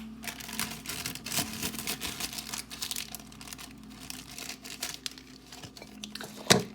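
Scissors cut open a plastic bag of cake mix, giving soft crinkling and rustling close by, with a brief sharper snip near the end.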